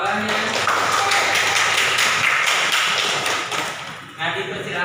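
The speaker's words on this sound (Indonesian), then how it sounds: "kasih aplaus" A classroom breaks into applause for a student's answer during a lesson on types of zakat: a few seconds of dense, close clapping that thins out near the end.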